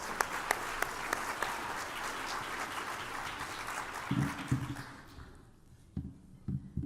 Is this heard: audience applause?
yes